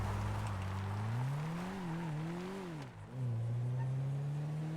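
Car engine in the video game GTA V, driven at high speed around 100 miles an hour, a steady loud engine drone that rises and falls in pitch, dips briefly, then holds.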